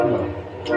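A train horn blares loud and close in a brief, continuous honk with rumbling train noise beneath it.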